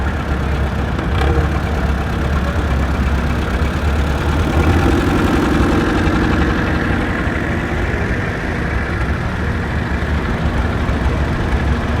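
A 1943 Allis-Chalmers B antique tractor runs at a steam show. Its engine holds a steady, loud, continuous drone close by, with no talking.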